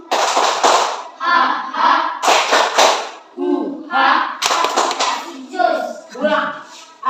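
A group performs the tepuk semangat spirit clap in a classroom coaching session, with sharp rhythmic hand claps punctuating loud chanted voices in repeated patterned phrases.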